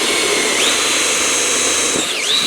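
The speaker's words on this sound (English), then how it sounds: "Drill your 4 holes." A power drill bores holes into a switchboard with a loud, steady whine close by, its pitch dipping and recovering twice as the bit bites into the board.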